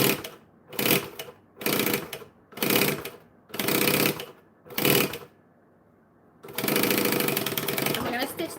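Sewing machine stitching along the edge of bright white fabric, running in six short bursts of about half a second each, then a longer steady run at the end.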